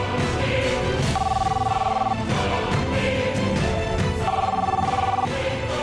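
A telephone rings repeatedly in bursts of warbling electronic tone inside a home, moderately loud, layered over a busy background of music and ambient noise.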